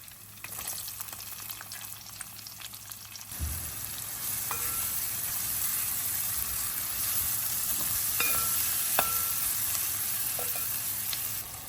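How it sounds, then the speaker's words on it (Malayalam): Small onions sauté in hot oil left from frying for a Malabar stuffed chicken dish, a soft hiss that swells into a steady bright sizzle after a few seconds, with occasional sharp clinks of a spoon against the pan. "ചെറിയ ഉള്ളി ഇട്ട് കൊടുത്ത് നന്നായിട്ട് വഴറ്റിയെടുക്കാം"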